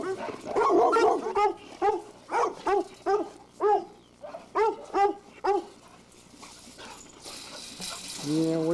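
Dogs at a kennel holding around thirty animals bark in a rhythmic string of about a dozen close, sharp barks, then the barking fades and a voice speaks at the end.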